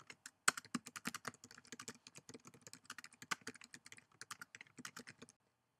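Rapid keystrokes on a computer keyboard as a customer types out a written review, an irregular run of crisp, close clicks with brief pauses, ending in a short silence.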